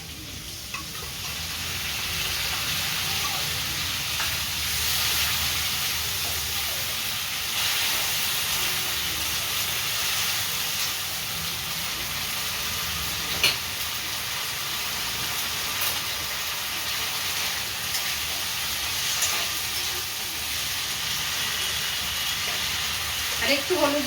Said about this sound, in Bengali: টমেটো দিয়ে একটু নাড়াচাড়া করে নিলাম।